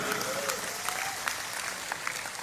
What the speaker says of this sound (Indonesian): Tepuk tangan untuk Madura.